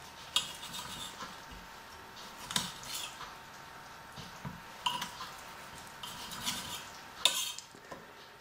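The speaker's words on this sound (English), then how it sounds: "So now basically just go ahead and slice your chorizo as you want it." Knife cutting chorizo sausage into chunky slices on a board: a string of soft, sharp taps and knocks, several spaced through the stretch, close and fairly quiet with no talk.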